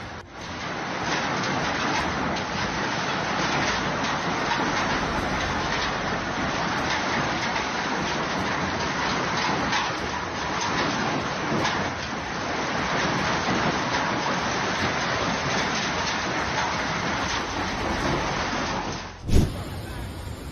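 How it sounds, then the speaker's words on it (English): A hailstorm in La Plata, Argentina, heard as a dense, unbroken roar of ice pounding surfaces, loud and steady throughout, with a sharp bump near the end. "Brutal hailstorm in La Plata, Argentina on February 22,"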